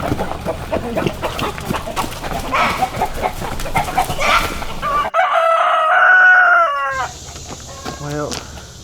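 A rooster crows loudly and repeatedly over a busy flock of clucking chickens in a yard, close by and filling the whole stretch.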